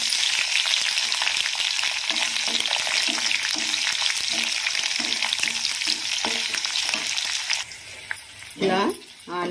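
Chopped onion and green chili frying in hot tempering oil with curry leaves give a dense, steady sizzle close up, with stirring scrapes throughout. Near the end the sizzle thins and a short voice cuts in.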